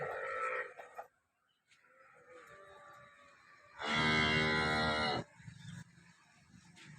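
A dairy cow on a Gujarati farm gives one long, loud moo lasting over a second, close by, after quieter scattered farmyard sounds.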